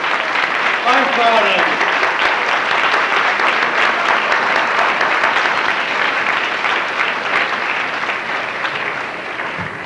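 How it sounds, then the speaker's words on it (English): A church hall audience at a 1991 bachelor ball breaks into loud, sustained applause for standing committee members, dense clapping that fades slightly toward the end, with a voice briefly speaking over the start. "Let's give them a big round of applause."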